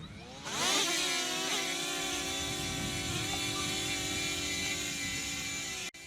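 A small DJI Flip drone hovering and flying backward then forward, its propellers giving a steady high buzzing whine with layered tones that swells at takeoff and holds level, close by, with no talking.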